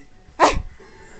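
A single short, loud bark from a nearby dog, standing alone against a quiet room.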